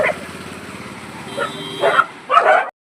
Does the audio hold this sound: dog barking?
yes